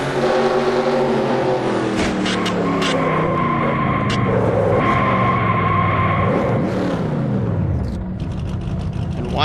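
Onboard sound from the OTC 360 Toyota race car at Daytona, a loud close engine whose pitch climbs and drops through the gears, with one brief lift partway through and a steady roar carrying on to the end.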